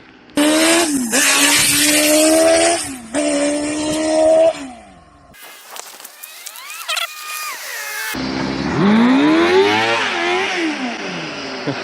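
A small crosskart racing engine fitted with a muffler revs hard and drops back in repeated bursts on a street, fairly loud, with a rising whine as it accelerates away.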